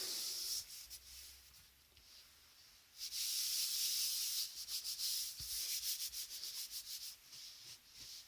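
Glued faux leather pressed and smoothed down for a traveller's notebook cover, giving soft dry rubbing and scraping strokes, quiet at first, then louder sustained passes followed by a run of short repeated rubs, with no talking.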